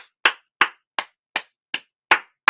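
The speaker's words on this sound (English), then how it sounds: "Let's give Ms. Hickman a round of applause." Applause follows a lecture: seven sharp, close claps land at an even rhythm a little under half a second apart, each one crisp and separate with silence between.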